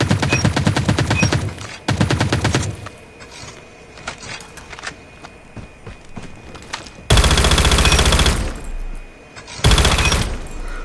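ASM10 rifle fire in Call of Duty Mobile ranked play: loud sustained automatic bursts at the start and end, separated by quieter stretches of game mechanism noise and footsteps.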